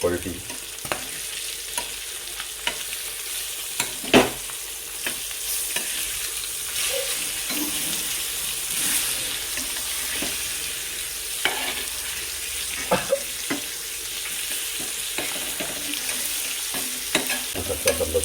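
Garlic fries in a pan with a continuous bright sizzle and scattered stirring knocks, close and fairly loud, with no talking.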